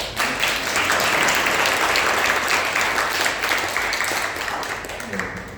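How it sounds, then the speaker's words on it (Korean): A church congregation applauds in welcome during a Sunday worship service, a steady, full round of clapping that holds for several seconds and tapers slightly near the end. "잠깐만 일어나 주시면 박수로 환영하겠습니다."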